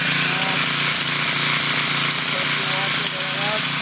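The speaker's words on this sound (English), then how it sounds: "I'm going to take just a pressure washer" A pressure washer fitted with a turbo nozzle blasts mildew off a wooden deck, a loud, unbroken roaring hiss from start to finish with no chemicals added.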